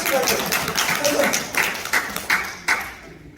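An audience at a lecture on Korean reunification claps, a loose burst of hand claps thinning into a few scattered taps that fade out near the end.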